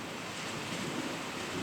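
Heavy rain pours down outdoors near Melbourne, a steady, dense broadband hiss that fills the clip without pause, loud and close with no voices.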